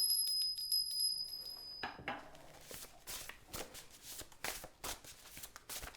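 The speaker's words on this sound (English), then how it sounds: "Let's ring this little bell too." A small bell rings with a bright, sustained tone through the first two seconds, fading as card shuffling and soft clattering take over at moderate loudness.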